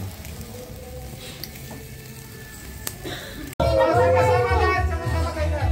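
Food sizzles and fries in a pan while cooking for a Christmas party, a faint crackle at first that suddenly turns loud and close, with children and adults talking over the frying.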